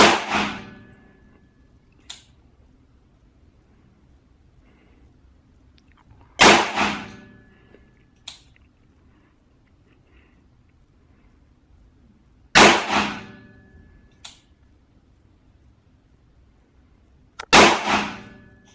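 Four loud, sharp .38 Special revolver shots spaced several seconds apart, each with a short echoing tail and faint clicks between them, at a quiet shooting range in Tarnowskie Góry.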